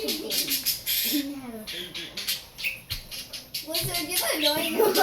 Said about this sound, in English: Oh yeah, it's another bird.